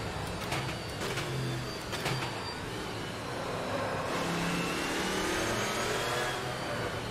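A race car in the video game Automobilista 2, played in VR, accelerates with a steady rising engine drone and road rumble that builds and holds loud throughout.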